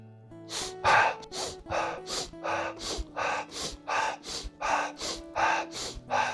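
Sharp, noisy inhalations repeat in a fast, steady rhythm during a Strelnikova breathing exercise, about a dozen close bursts over soft background music, without talk.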